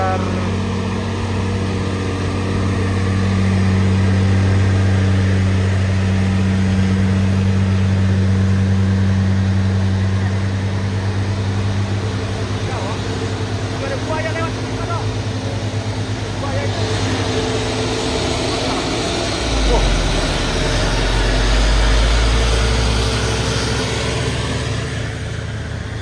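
A Fuso Fighter X truck engine drones steadily as it drives past on a road, a loud low hum that swells and fades, with a deeper rumble rising near the end and voices talking over it.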